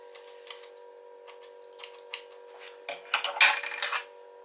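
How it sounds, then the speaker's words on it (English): Scissors snip along one side of a fish's spine during filleting at home, a series of short crisp cuts, sparse at first and then quicker and louder near the end, with a steady electrical hum underneath. "So get a pair of scissors"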